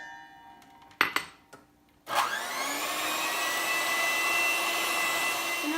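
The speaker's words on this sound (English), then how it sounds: "we are now going to beat some egg whites that are at room temperature until they're nice and fluffy" An electric hand mixer starts up after a few clinks and whips room-temperature egg whites for macarons, settling into a steady whirring drone that runs to the end.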